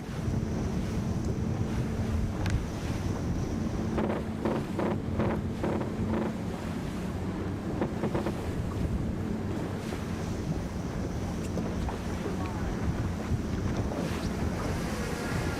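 Aboard the American Magic 52 Super Series racing yacht tacking off Galicia: heavy wind roar and hissing waves, with a cluster of sharp flapping and rattling bursts from the sails and rigging midway through, constant and close.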